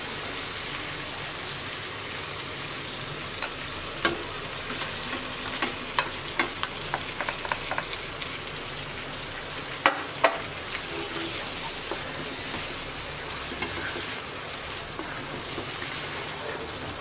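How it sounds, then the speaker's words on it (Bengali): Marinated chicken for a traditional Bengali chicken chaap fries in a pan with a steady, close sizzle, with scattered crackles and spoon-stir clatters throughout and no talking. "এবার দিয়ে দিচ্ছি ম্যারিনেট করা চিকেন।"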